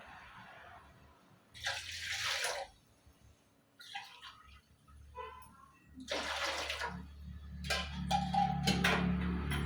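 Water splashes and pours into a pan in several separate bursts, with pauses in between, fairly close and moderately loud.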